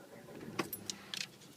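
Car keys jangle in the ignition of an Audi A3 as it is switched on, a few light metallic clinks and rattles, close and fairly quiet.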